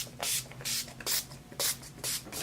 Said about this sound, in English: I'm going to go in with my all-nighter setting spray